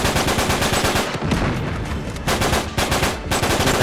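Rapid bursts of gunfire in Uncharted 3 crackle loudly and continuously, with brief gaps between volleys of automatic shots.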